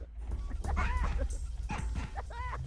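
High, strained whimpering cries from a character dying in Oddworld: Abe's Exoddus, rising and falling in pitch, with yelping tones over a rumbling game soundtrack.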